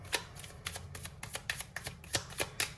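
Tarot cards are shuffled by hand in a quick series of crisp riffling bursts, close and fairly soft, with no talking over them.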